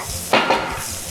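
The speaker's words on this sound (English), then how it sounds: "We can go ahead and add our vegetables back in. So kind of stirring." Vegetables being stirred in a pan while cooking ramen fried rice, two quick close scrapes and clacks of a utensil over a faint background sizzle.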